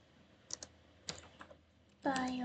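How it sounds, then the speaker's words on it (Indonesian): Typing on a computer keyboard while entering a command in a terminal: a handful of sparse, light key clicks in a quiet room, followed by a brief tonal beep-like sound at the end. "Di sini kita bisa ketik"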